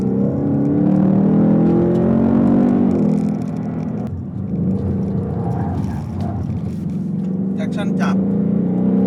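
A Ford Mustang GT with a 5.0 V8, driven in Sport S mode, gives a low, steady engine rumble from inside the cabin, rising slightly at times, heard beneath someone talking throughout.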